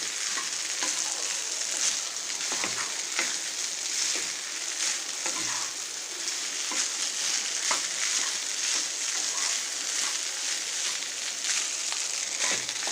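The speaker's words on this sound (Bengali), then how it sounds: "এবার আমি খুব ভালো করে সবজিটার সাথে রাইসটা মিশিয়ে নেব।" Rice stir-fried with mixed vegetables in a pan, Bangladeshi restaurant-style fried rice: steady broad sizzle with frequent scraping spatula clicks and tosses, close and continuous, no voices.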